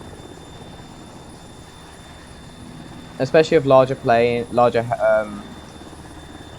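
UH-60 Black Hawk helicopter in the video game Arma, a steady droning rotor and engine hum running throughout, with someone talking over it partway through.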